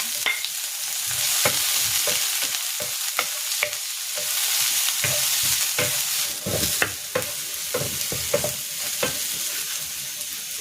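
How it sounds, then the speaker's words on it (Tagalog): Garlic sautéing in a pan for chicken bistek, a continuous close sizzle broken by frequent sharp scrapes and clinks of a utensil stirring against the pan. "Igigisa ko na dito itong bawang."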